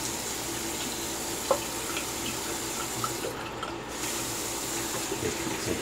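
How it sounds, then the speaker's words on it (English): Cold water runs steadily from a tap into a sink during a wet shave rinse, a continuous close hiss and splash with one small clink partway through. "Get some cold water going."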